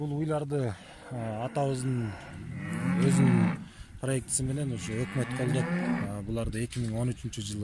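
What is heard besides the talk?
Aberdeen Angus cattle mooing on farm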